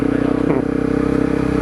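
A Honda CRF250L dual sport motorcycle throttles on slick grass, its engine droning loud and close with a pulsing rhythm, partly under a voice.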